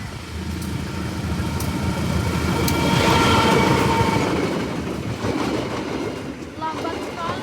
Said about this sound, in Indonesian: Kereta api Dharma Wangsa ini.